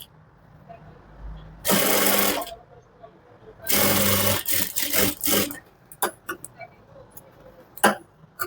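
Sewing machine stitching a folded blouse fabric strip at a quarter-inch seam, in two loud sustained runs followed by shorter bursts and clicks of handling.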